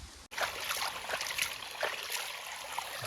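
Water gushes and gurgles as it flows into a farm field at midday, a continuous bright splashing rush, close and steady, after a brief opening gap.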